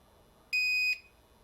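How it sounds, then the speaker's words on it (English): A single steady electronic beep from a battery backup unit, high-pitched and fairly loud, lasting under half a second against a quiet background. "it's going to beep at me the whole time"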